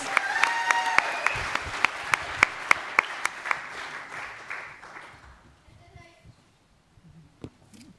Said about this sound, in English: Can we please give Cadence from Cowgirl Cosmetics a massive round of applause?